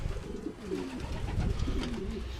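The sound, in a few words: pigeons cooing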